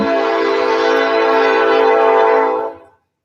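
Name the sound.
train passing by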